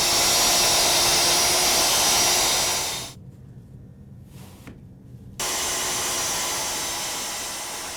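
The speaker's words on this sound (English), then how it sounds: "So now that we've finished our long rip cuts, on this panel here" A saw makes long rip cuts through a 4x8 MDF or plywood sheet with a loud, steady whine. The whine stops abruptly for about two seconds, then resumes at full strength and slowly fades.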